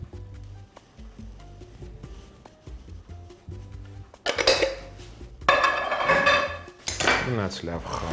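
A tomato and shrimp salad is tossed in a bowl: soft scraping at first, then louder metallic clinks and clatter of utensils against the dish in quick bursts, close and with no talk.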